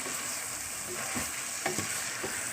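Mushrooms stirred into a pan of softened onion and tomato for mushroom biryani fry with a steady close sizzle, broken by a few distinct stirring scrapes and knocks of a spoon; no talking.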